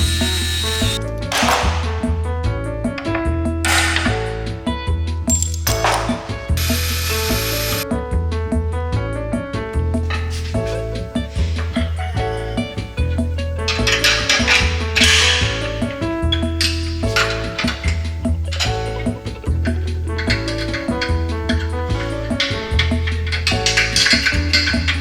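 A power tool whirs and ratchets in repeated bursts while bolts come out of a VW Golf 2 rally car, close up and steady, with short pauses between runs.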